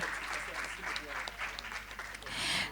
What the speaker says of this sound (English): let's have a round of applause for all 5 recipients of Phenomenal Women 2022